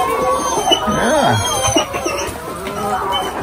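Chickens cluck close by in a steady, overlapping chorus with a few rising calls, continuous and fairly loud throughout.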